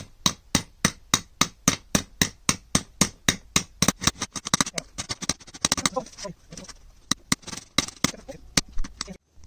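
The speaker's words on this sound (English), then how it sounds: "I'm just going to put my new bearing in now. Tap it in." A hammer taps a new bearing into the air-con idler pulley of a Toyota Land Cruiser 1KZ-TE engine, giving a fast, regular run of sharp metallic strikes up close that turn into scattered, uneven knocks.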